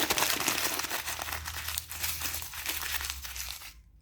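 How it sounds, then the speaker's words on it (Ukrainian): Close, continuous rustling and crinkling of paper, loud and busy for several seconds before stopping abruptly. "Можна просто пошурхотіти папером."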